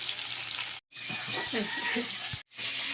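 Garlic and marinated meat sizzle steadily in a hot pan in a home kitchen, a bright continuous frying hiss with brief stirring breaks, while a person talks over the cooking.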